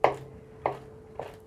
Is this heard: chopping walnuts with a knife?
yes